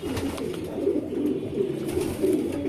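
Young pigeons in a breeding loft give soft, low cooing murmurs that continue steadily and close by, with no voices over them.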